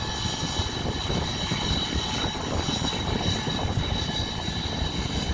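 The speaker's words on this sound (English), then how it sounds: "And there's another one, DC-10 or MD-11, whatever." A DC-10 water bomber air tanker at the Pocatello Air Tanker Base in Idaho gives off a loud, continuous engine roar that stays steady throughout, with no voices.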